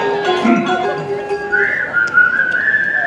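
Whistling carries a tune, clear and close, with a sustained high note drawn out toward the end, on Main Street, U.S.A. at Magic Kingdom.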